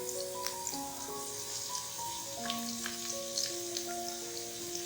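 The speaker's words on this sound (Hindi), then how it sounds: "चीजें फ्राई हो रही हैं जो मैंने डाली थी, गाजर और शिमला मिर्च।" Carrots and capsicum sizzle in a hot pan for egg fried vegetable rice: a steady, close frying hiss with scattered small pops and crackles and no talking.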